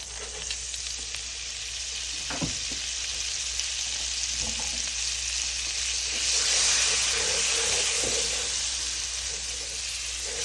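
Butter sizzles in a frying pan for steak bites, a steady bright hiss throughout with a few soft knocks and scrapes, swelling louder partway through.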